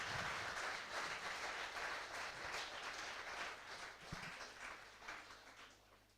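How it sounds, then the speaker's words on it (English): Audience applause at an entrepreneurship conference, a dense, steady wash of many hands clapping together from start to finish, fairly even in level with no voices over it. "Let's have a round of applause for the girl who said that"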